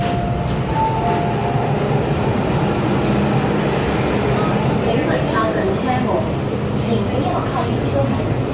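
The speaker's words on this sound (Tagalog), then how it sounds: "So, yan yung tren." A Hong Kong MTR blue line metro train heading to Sai Wan Ho rumbles loudly and steadily, with rail noise and faint squeals filling the whole stretch and people speaking over it.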